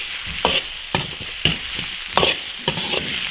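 Potato pieces stir-fried in a hot oil-coated iron wok, with a bright continuous sizzle broken by repeated scraping strokes of a spatula at an uneven rhythm.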